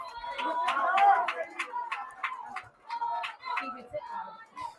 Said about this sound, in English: Noise coming from the crowd.